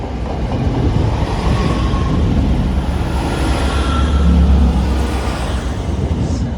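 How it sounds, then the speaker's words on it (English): A loud, continuous rumble of a train rolling past close by, steady roar with faint squeals, swelling slightly toward the middle. "once this train's passed through"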